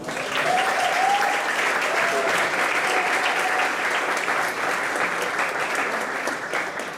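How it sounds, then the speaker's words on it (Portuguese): A church congregation applauds steadily for several seconds, a dense, sustained clapping that fills the room, with a faint voice briefly audible early on. "Pode aplaudir, igreja."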